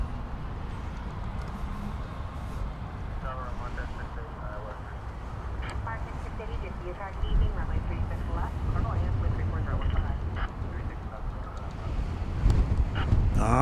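An Airbus A300 UPS cargo jet glides past an airport at night, a broad, steady roar with wind noise that swells slightly toward the end while someone talks over it throughout.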